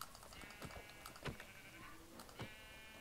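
Several short synthetic Minecraft sheep bleats from the 1.9 update sound over a quiet background hum, with a few light clicks between them.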